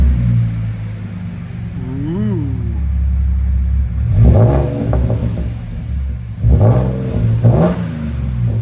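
A 2017 Audi Q7 3.0 supercharged engine idles with a deep exhaust rumble through a Magnaflow mid and rear delete, then revs sharply a few times, each burst rising and falling, loud and close.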